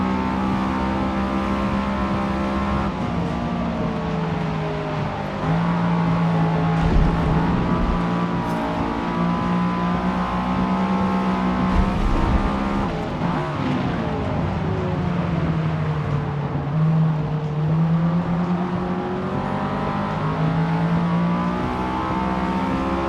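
Race car engine in the Forza Motorsport video game, a loud, steady drone with a wavering pitch as the throttle is eased on and off, running continuously with no talk.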